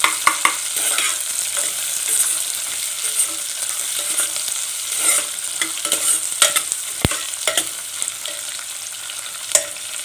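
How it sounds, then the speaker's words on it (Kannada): Onions frying in oil in a pan, a continuous bright sizzle with repeated scraping and stirring strokes throughout, close up and without talking. "ಇದು ಈರುಳ್ಳಿ ಒಂದು ಸ್ವಲ್ಪ ಫ್ರೈ ಆಗಬೇಕು ಎಣ್ಣೆ ಒಳಗೆ ಫ್ರೈ ಆಗುತ್ತಾನೆ ಸ್ವಲ್ಪ ಕೈ ಆಡಿಸ್ಬೇಕು"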